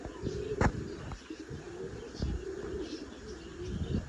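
Racing pigeons kept at a village home coo softly in short, low calls, with a brief sharp knock near the start and faint background chirps.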